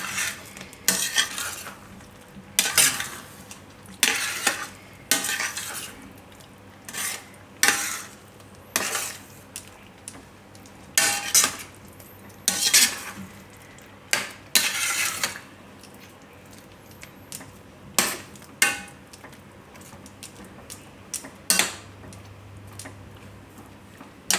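A spoon repeatedly scrapes and clinks against a pot while mixing the dudhi kofta mixture, in irregular strokes with short pauses between them, close and fairly loud, with no talking.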